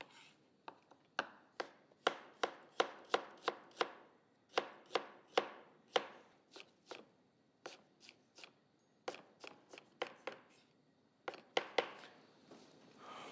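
Fresh green onions, green chillies and ginger chopped finely with a knife on a board, quick bursts of crisp, rapid chops in uneven runs with short pauses, close and clear but low in level.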